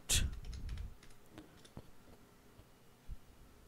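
Quiet keystrokes on a computer keyboard type a short search, a few scattered soft clicks after a sharper opening tap, no speech.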